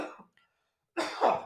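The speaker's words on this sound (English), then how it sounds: "I'm going to have to cough." A single person coughs once, a short harsh burst after a moment of quiet, close to the microphone and following a brief bit of talk.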